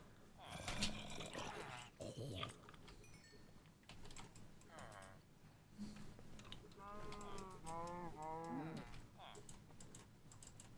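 Cow mooing in a Minecraft-style game from the Crash Landing modpack, a couple of drawn-out lowing calls mid-clip amid keyboard clatter and game noise, with a person talking at times.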